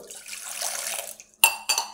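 Water runs steadily from a tap for about a second, then stops, followed by two short clinks of glass or a vessel being handled.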